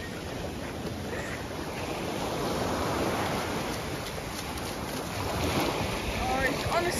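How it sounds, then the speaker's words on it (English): Ocean waves surge and wash continuously against the shore, a steady broad roar mixed with wind buffeting the microphone, fairly close and loud throughout, with no talk. "Did the waves take you?"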